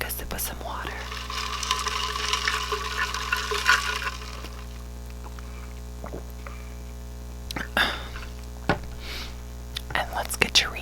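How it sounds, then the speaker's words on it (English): Someone takes a sip of water close to the microphone, with soft liquid and slurping sounds at the start. Quiet mouth noises and faint whispering follow. "let's take a sip of some water"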